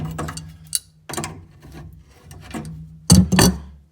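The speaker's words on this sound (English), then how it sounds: "I've not got a spanner for that, so I've got big adjustable on." A large adjustable spanner grinds and rasps against the fitting of a frost-damaged outside tap in short bursts, with a louder, heavier twist of metal near the end.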